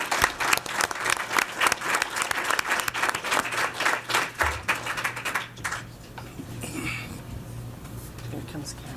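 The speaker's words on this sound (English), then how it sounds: "So if you guys give a round of applause, I would appreciate it." Audience applause at a school board of education meeting, a steady round of clapping lasting about six seconds before dying away into room noise and faint voices.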